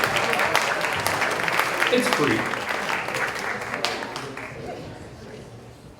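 Audience applause at a celebration of life gathering, loud sustained clapping from a crowd that tapers off, with someone speaking over it near the end.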